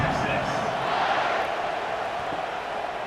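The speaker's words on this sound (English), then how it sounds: "this crowd is buzzing after that last score" Steady crowd buzz filling a college football stadium, Arkansas at Texas, after a touchdown; a dense, continuous roar of many voices that holds level throughout without distinct cheers.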